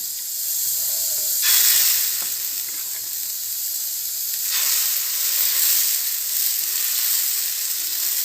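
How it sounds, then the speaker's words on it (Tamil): Whole wheat adai batter with chopped onion sizzling on a hot dosa griddle, a loud, steady close-up hiss and crackle that swells as more batter meets the pan. "இது தோசைக்கல்ல ஊற்றிடலாம்"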